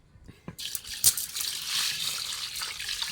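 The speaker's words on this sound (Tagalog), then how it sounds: "Lagyan natin ng tubig mga kapangit." Water is poured into a cooking pot of mung beans (monggo) with pork hock, starting as a soft splash and settling into a steady rushing pour that continues to the end.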